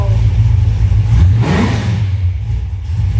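An engine fires up without choke and revs hard, a loud close roar that rises then settles back toward idle, with fresh spark plugs and wires fitted.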